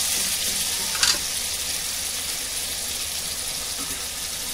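Tomatoes tipped into onions frying in a pan for methi gosht give a steady, close sizzle, with a brief louder splutter near the start and then even frying.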